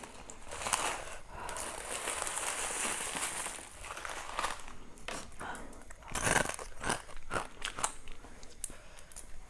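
Close, loud crunching and chewing while eating rice noodles topped with fish sauce, salmon, fresh shrimp, blue crab, sator beans and pickled garlic, with wet bites and crinkly crackles coming in bursts.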